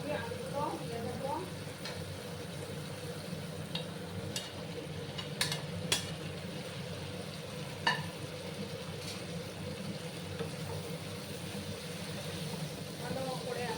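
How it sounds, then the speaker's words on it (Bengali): Cauliflower florets and potato pieces fry in hot oil with spices in a pan, giving a steady close sizzle with a few sharp spits and crackles throughout. "ফুলকপি আলুগুলো দিয়ে দেবো।"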